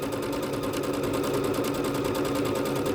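A Bernette B-77 sewing machine stitching a decorative stitch, its needle hammering in a fast, steady mechanical rhythm that stays loud and close without pause.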